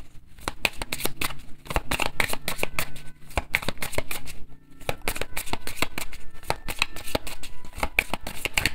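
Tarot cards shuffled steadily for several seconds, a dense run of crisp riffling and slapping flutters with brief pauses, close and fairly loud with no talking.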